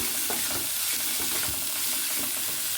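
Carrots and beans stir-fry for fried rice made without sauces, a loud, close sizzle broken by repeated scraping and tossing strokes against the pan, with no voices.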